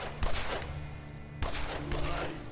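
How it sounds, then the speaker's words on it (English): Gunfire from the Evil Genius video game, loud broadband bursts near 0.2 s and 1.4 s, each followed by sustained crackling shots that fill the clip. "Why are you shooting?"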